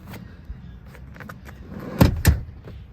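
Mechanical clunks and a brief sliding rattle as a second-row seat is released and tilted forward inside a Chrysler Pacifica plug-in hybrid minivan, with two louder thumps near the end, close and without talk.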